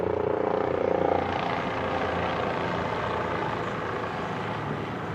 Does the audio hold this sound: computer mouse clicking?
no